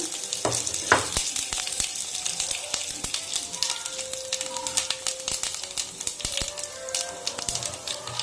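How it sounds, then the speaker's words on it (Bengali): Panch phoron spices, cumin seeds and bay leaf sizzle in hot mustard oil for a Bengali vegetarian curry, a steady close crackle with scattered sharp pops and spatters throughout. "গরম হয়ে গেছে, এখন আমি 5 ফোড়ন, জিরা আর তেজপাতা দিয়ে দিলাম।"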